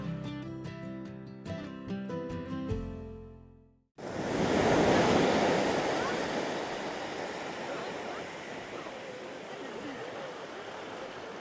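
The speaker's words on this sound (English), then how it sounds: "Those waves do come in a rocking." Waves break and surge in a loud continuous wash on a tropical beach at Bamboo Beach on Koh Lanta, Thailand, starting abruptly after a few seconds of tonal sound and rolling on steadily with wind.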